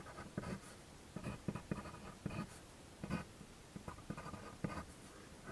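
Chalk or marker taps and scratches across a board as math is written out, coming in short, close bursts of strokes separated by brief pauses.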